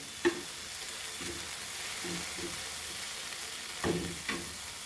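Dried prawns (kismoor) fry in a pan with a steady broadband sizzle, broken by a few sharp knocks and scrapes of stirring near the start and end; no one speaks.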